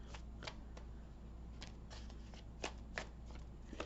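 Tarot cards are shuffled and drawn by hand during a pick-a-card reading: a steady close papery rustle broken by a few crisp snaps, with no voices.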